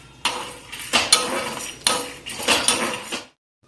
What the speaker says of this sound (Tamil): அடுத்தது கடலைப்பருப்பு முதல்ல போடுறேன்